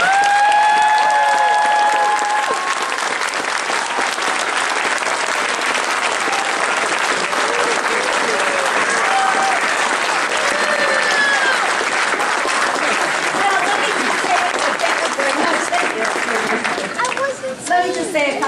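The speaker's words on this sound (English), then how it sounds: "So please give her a huge round of applause." Sustained applause from an audience at a school oratorical presentation event, dense steady clapping filling the room for the whole stretch and tapering slightly near the end, with some voices mixed in.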